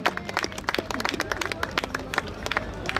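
A crowd at a 2019 tractor pulling event in Panten, featuring 6.5-ton standard and vintage tractors, breaks into brisk, close clapping during an awards moment, with crowd murmur underneath.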